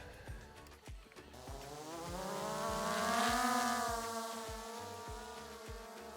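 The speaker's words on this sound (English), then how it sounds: "There's a plane." An airplane flying overhead during a winter hike in deep snow, its engine drone swelling steadily to a peak mid-clip and then easing off, with sharp ticks scattered throughout.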